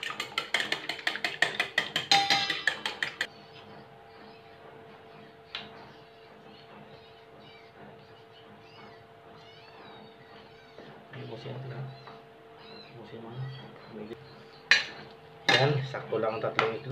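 Three eggs beaten in a bowl for stuffed mud crab filling: a burst of rapid clinking and scraping at the start, then quieter intermittent taps and clatter over a steady background hum, with a voice speaking near the end.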